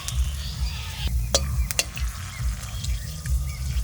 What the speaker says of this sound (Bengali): এই যে ফোড়নও দিয়ে দিচ্ছি দুটো শুকনো লঙ্কা আর এখানে আছে দারুচিনি আর দুটো এলাচ